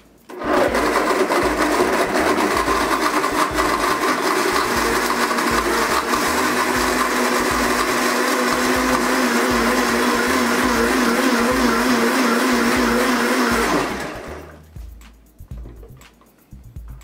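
A blender running steadily for about thirteen seconds, blending ice with Torani Real Fruit Smoothie mix in a 16-ounce cup's worth of ingredients, loud and continuous with a churning whine before it cuts off.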